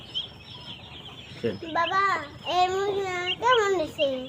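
Several high, wavering chick peeps and clucks come one after another from a chicken blind in one eye, close and fairly loud, after a quiet start with faint background murmur.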